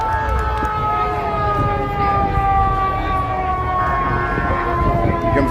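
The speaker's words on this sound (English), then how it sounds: "Here comes the fire engine." A Chicago fire engine's siren wails continuously at a parade, loud and close with falling, sliding tones over heavy engine rumble and crowd noise.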